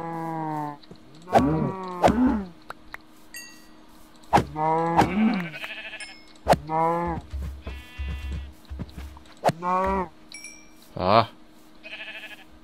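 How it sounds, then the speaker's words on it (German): Cows in the Minecraft video game let out a series of drawn-out, wavering moos, about eight calls spaced unevenly, loud and close, with a faint background hum between them. "da hinten sind Kühe"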